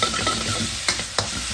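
Beef for beef and broccoli fries in a hot pan, giving a steady, close, dense sizzle that runs throughout, broken by two quick utensil scrapes near the end; no voices.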